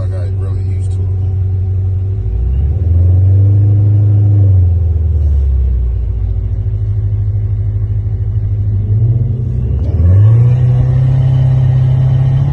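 A Procharger-supercharged 2016 Corvette engine roars with a deep, loud rumble, climbing in pitch through two hard revving accelerations and holding a steady drone between them.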